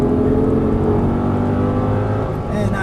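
An Audi R8 supercar at full throttle on a race track, its engine a loud, steady roar with rising harmonics, heard from inside the car with a voice speaking over it.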